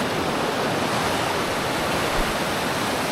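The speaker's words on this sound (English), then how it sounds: "I just feel like there's a little more going on in the water today, a little more turbulence." Turbulent water of the River Muota in Switzerland rushes and churns in a loud, continuous broadband roar, with no voices over it.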